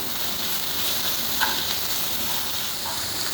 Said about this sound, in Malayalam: ഇനി നമുക്ക് കുറച്ച് നേരം വഴറ്റി കൊടുക്കാം.